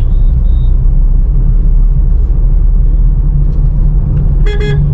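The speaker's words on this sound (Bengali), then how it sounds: "হর্ন দিচ্ছি" A short double car horn toot near the end, heard inside a moving car over a constant loud engine and road rumble, with a faint beep earlier.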